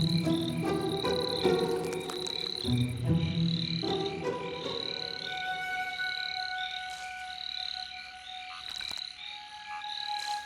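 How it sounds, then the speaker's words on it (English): Male Omei whipping frogs call at a night pond in the Sichuan rain zone, with repeated sharp croaks and whistling notes over a dense, continuous chorus of insects and crickets. "male Ome whipping frogs have come from everywhere to compete for the right to mate"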